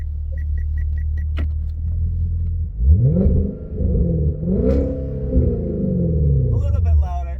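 A V8 Genesis sedan with a new X-pipe and no mufflers idles with a deep burble, then revs several times in rising and falling swells close by, with a voice speaking over it.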